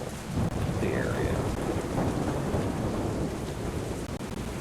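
Thunderstorm ambience in a tabletop RPG stream: dense steady rain and a low continuous thunder rumble fill the whole stretch, loud and enveloping, with no voices over it.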